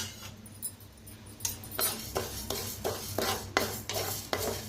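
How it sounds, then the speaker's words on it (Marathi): Urad dal is dry-roasted and stirred in a pan for Sunday idli sambar, giving a run of crisp, rhythmic scraping strokes with a faint sizzle and light clinks of the utensil against the pan, close and alone, with no talk. "इथे उडदाची डाळ घेतलेली आहे, त्याला बी भाजून घेऊया."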